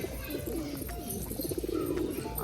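Pigeons coo in the rain, low throaty coos repeating close by in soft rolling phrases over a steady patter of rainfall.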